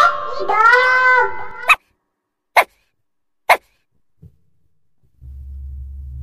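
A cartoon dog in a children's ABC nursery rhyme gives three short, sharp barks evenly spaced, following a bright sung children's voice, then a low hum underneath.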